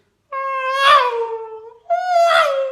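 A human voice imitates a Formula 1 car passing on a race circuit. It makes two drawn-out nasal tones, each sliding down in pitch like an engine sweeping past, with a short gap between them.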